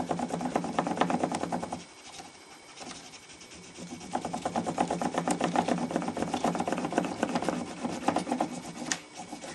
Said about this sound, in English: I'm just using the back of my cutting tool as a buffer